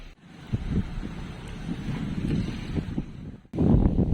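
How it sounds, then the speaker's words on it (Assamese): Gusty, cold wind at Kaziranga buffets the microphone in a low, steady roar that swells and drops, cutting out briefly before returning stronger. "বহুত বতাহ মাৰিছে"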